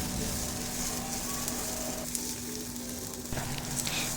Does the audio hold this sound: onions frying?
yes